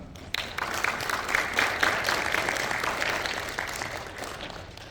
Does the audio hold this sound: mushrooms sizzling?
no